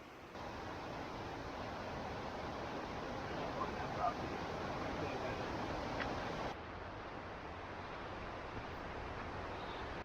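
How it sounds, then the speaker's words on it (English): Steady, loud roar of the massive two-tiered Harper Creek Falls in Pisgah National Forest, a continuous broadband rush heard close with no breaks. "Looking down on the massive 2-tiered Harper Creek Falls."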